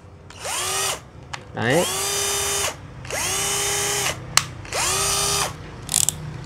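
A used Japanese cordless drill, its clutch slipping in the slip-torque setting, whirs up in three separate runs, each ending in a rapid ratcheting clatter, with short pauses and a brief spoken word between them.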